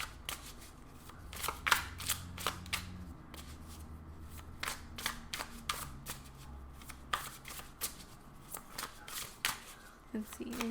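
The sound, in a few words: shuffling tarot cards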